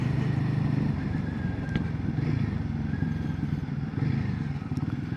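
A Royal Enfield Guerrilla 450 motorcycle engine runs steadily and fairly loud throughout, a low rumbling drone with slight surges, no talking.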